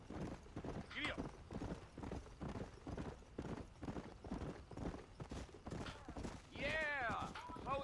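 Horse hooves clip-clop steadily through a ride in the Red Dead Redemption game, mixed under ongoing character dialogue, with a horse whinny rising near the end.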